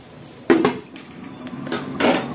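A lid goes onto a pot of chicken khichuri with two sharp metallic clanks and a lighter rattle between them, close and distinct against a quiet kitchen background.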